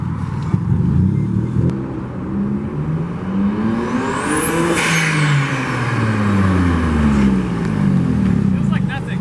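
A turbocharged J32 V6 in a Honda Civic pulls hard through first gear, the engine note rising in a loud sweeping climb with turbo whistle, shifting and rising again inside the cabin.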